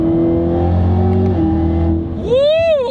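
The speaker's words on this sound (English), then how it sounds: "as I come out of the corner, it gets ready and puts the power down" A 2019 Chevrolet Camaro ZL1 powers out of a corner, its engine droning steadily at close range before the revs climb in a sharp rising sweep near the end.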